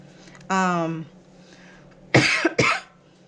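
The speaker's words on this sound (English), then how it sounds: "Please excuse the coughing or the ongoing coughing." A drawn-out vocal sound, then two sharp, harsh coughs close to the microphone, with quiet pauses between.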